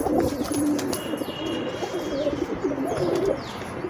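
A pigeon with red eyes, a black beak and green colouring coos in soft repeated low phrases close by, with a few faint chirps and light background noise.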